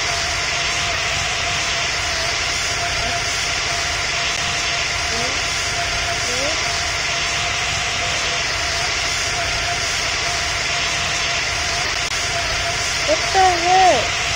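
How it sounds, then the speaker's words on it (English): Steady aircraft engine drone inside a small plane in flight after a restart, a continuous loud hum with hiss filling the cabin, while faint voices come through briefly near the end. "I actually just turned off the engine and turned it back on."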